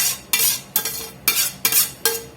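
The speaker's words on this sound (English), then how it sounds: "We're going to get these mushroom and onions in here" Mushrooms and onions are stirred into meat cooked in bacon fat for a bacon mushroom Swiss loaf, five loud scraping utensil strokes against a pan in an uneven rhythm over faint sizzling, close by with no talking.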